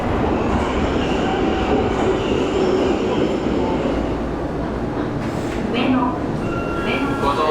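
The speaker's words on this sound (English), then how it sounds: "Japanese trains are very quiet." A Tokyo subway train runs with a steady, fairly quiet rumble and light rail noise, while voices talk nearby.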